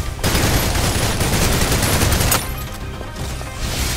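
Sustained rapid gunfire in the shooter game Snowbreak: Containment Zone, loud and dense for over two seconds, then continuing in slightly quieter bursts, with no talk over it.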